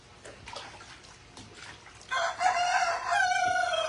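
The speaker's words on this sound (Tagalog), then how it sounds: "yung mga manok namin maiingay" A rooster crows loudly nearby in the second half, after quieter background rustling and faint bird sounds.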